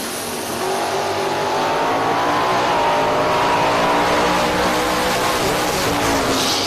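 A drag race car, Steve Corbin's 74 Vega, roars down the strip at full throttle, its loud sustained engine note building and holding steady throughout with tire noise beneath, no talk over it.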